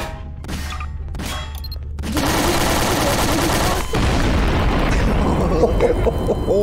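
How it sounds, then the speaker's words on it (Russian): A bomb detonates in Garry's Mod during a Granny co-op horror game mode, a couple of sharp bangs followed by a sustained loud rumbling blast that fills the rest of the moment. "О, вот это именно мощный взрыв."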